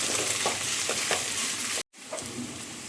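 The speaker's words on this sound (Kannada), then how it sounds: "ಸೋಂಪು ಕಾಳು ಮತ್ತು ಈರುಳ್ಳಿ ಫ್ರೈ ಆಗುವಾಗ" Fennel seeds and onions fry in a pan for a chicken gravy, giving a steady, close sizzle with faint stirring clicks; it drops out for a moment near the end, then resumes.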